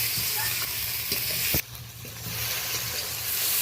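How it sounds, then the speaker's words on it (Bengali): Grated onion and tomato sizzle in a little oil in a pan for a rohu fish curry, a loud close hiss broken by a sharp scrape of stirring partway through. "পেঁয়াজটা অনেকটাই ভাজা ভাজা হয়ে গেছে"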